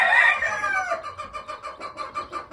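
A free-range hen with American Gamefowl chicks gives a loud, drawn-out crow-like call at first, then a run of soft, rhythmic clucks repeating close by with no talking.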